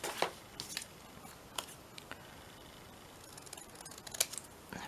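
Scissors roughly cut a small paper squirrel shape out for an autumn journal card. Faint, scattered snips and paper rustles sound close by against a quiet background, with no talking.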